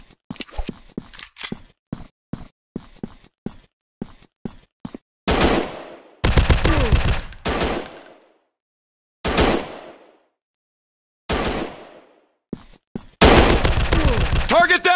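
Gunfire in the FPS shooting game Cover Fire for Android: a string of sharp single shots followed by loud sustained automatic bursts separated by short silences.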